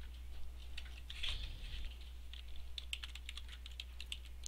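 Fingers typing on a computer keyboard, a quick irregular patter of close, soft key clicks over a low steady hum, with no talk.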